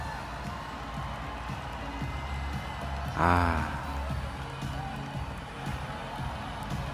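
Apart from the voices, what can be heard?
audience cheering at the Miss Philippines pageant result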